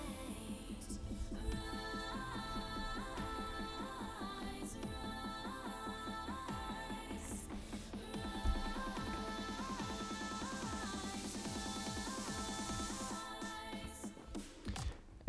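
A melodic dubstep build-up plays out with layered synth chords, rising risers and a quickening snare pattern that climbs steadily in a dense, continuous mix.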